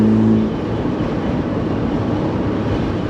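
A Morgan sports car engine drones loudly and steadily from close by, a deep rumbling tone heard from within the car, with a brief higher whine at the very start.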